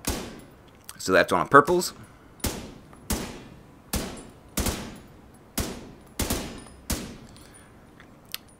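Single P416 rifle shots in The Division 2, about nine sharp, evenly spaced cracks with decaying tails, plus a quick burst early on; someone talks briefly over the first shots.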